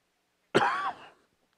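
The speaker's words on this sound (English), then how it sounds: "Apologize for the cough." A single close, sharp cough lasting about half a second, heard by itself in a quiet moment during the commentary on a varsity high school soccer match between Farmersville and Celina.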